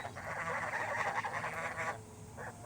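Ducks quack and geese honk in a dense, continuous chorus for about two seconds, then the calls thin out briefly before a short burst returns.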